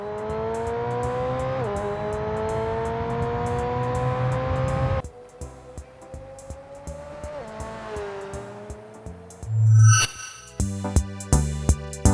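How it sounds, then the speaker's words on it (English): A McLaren 720S lapping a track in the F1 22 racing game: a loud, steady engine rises in pitch through repeated gear changes, drops off sharply, then revs again, with tire squeal and short bursts near the end. "Jean-Simon Cornet had the honor of doing a lap of the track with the McLaren 720S"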